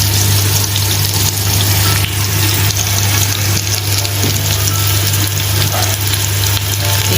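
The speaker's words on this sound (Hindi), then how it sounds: "अब हम इसमें लहसुन अदरक का पेस्ट डालेंगे।" Steady, dense sizzling of garlic ginger paste frying with onions in a hot pan, continuous and close, with a low constant hum underneath and no talking.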